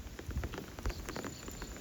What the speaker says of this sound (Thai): สังเกตได้ว่าตอนนี้ฝนตกนะครับ